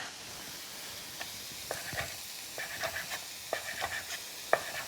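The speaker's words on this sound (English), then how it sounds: "I'm gonna get those onions in the pan. Gonna let those cook" Onions sizzle gently in a frying pan, with intermittent scraping and stirring clicks over a soft continuous hiss.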